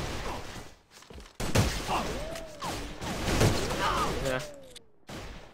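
Pistol gunshots in the first-person shooter AVA (Alliance of Valiant Arms), a few sharp shots with rising whooshes and ringing tails, and a short spoken word.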